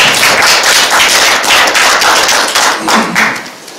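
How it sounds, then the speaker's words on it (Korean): An audience at a Jecheon civic policy debate claps loudly and steadily to open the event, a close, dense burst of many hands pulsing in waves for several seconds before tapering at the end. "자, 박수 쳐주세요."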